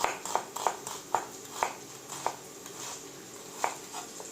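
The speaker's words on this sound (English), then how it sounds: "Let's cut onions into julienne as well." Knife slicing onions into thin julienne strips on a cutting board for chicken soup, a series of crisp, irregular chopping taps close by, with no talking.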